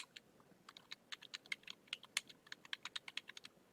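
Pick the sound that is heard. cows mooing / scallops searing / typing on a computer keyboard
typing on a computer keyboard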